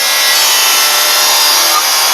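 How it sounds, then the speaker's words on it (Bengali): A handsaw cutting a wooden seat outdoors on a cold day, giving a steady, close, continuous rasping stroke that runs on unbroken and alone. "আর এই মুহূর্তে আমি এখন সিট কাটছি।"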